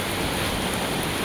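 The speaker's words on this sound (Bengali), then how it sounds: "বৃষ্টি শুরু হয়ে গেছে," Rain pouring down as a shower gets going, a dense, steady broadband hiss that stays even and fairly loud throughout with no voices.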